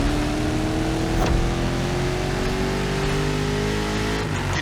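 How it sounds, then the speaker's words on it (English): A 1969 Mustang Boss 429 in The Crew Motorfest, its big V8 droning loud and close under steady throttle with a gently rising pitch, with no talk over it. "You're driving my #1 car, the star of my collection, the 1969 Mustang Boss 429."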